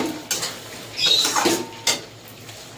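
Spice masala being stirred and sautéed in a metal pan for a doi katla fish curry, with intermittent scraping and clinking of a spoon against the pan over a low sizzle.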